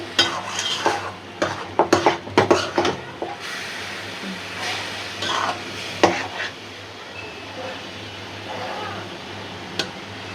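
Greens frying with hilsa fish, taro and prawns in a pan, a sizzle running throughout while a utensil scrapes and clatters in bursts, loudest in the first few seconds and again briefly near six seconds.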